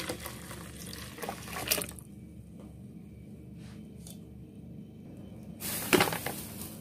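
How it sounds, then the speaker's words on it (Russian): 300 ml of water poured into a bowl for baking dough, heard as a soft trickle between sharper splashes and clinks near the start and end. "И выливаем 300 миллилитров водички."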